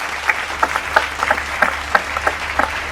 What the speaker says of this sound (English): A big round of applause for Mr. Irfan Syed.